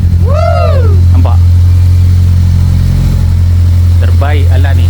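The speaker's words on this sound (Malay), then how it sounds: "Dengan sekali start je, enjin pun hidup." A car engine runs at a loud, steady idle with a deep hum close by, while a voice speaks over it.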